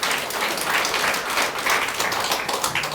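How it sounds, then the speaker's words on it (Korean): Warm applause from a church congregation during a Sunday service, steady dense clapping from many hands filling the room throughout without talk. "우리 따뜻한 사랑의 박수를 좀 미리 드리고요"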